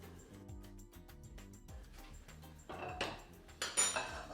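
A frying pan clanks and scrapes as it is picked up and set down among other cookware, a run of close metallic knocks and clinks that grow louder and busier toward the end.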